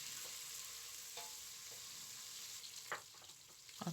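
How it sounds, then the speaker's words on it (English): Rice and spinach sauce with turkey stirred in a pan, a quiet steady sizzle with occasional soft scrapes of the spoon, faint and without talk. "Stir very well."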